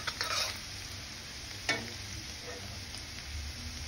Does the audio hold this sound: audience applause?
no